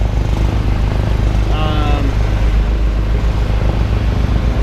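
Sailboat running under its inboard engine with no wind, a steady loud low drone and thrum close by, with a brief tonal whine partway through.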